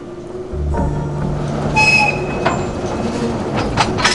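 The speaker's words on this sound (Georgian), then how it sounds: "საცაა გავა მატარებელი" A train sound effect used in a Georgian poetry recitation: a loud, close rumble and clatter of a passing train that builds quickly, with a brief metallic squeal of wheels midway.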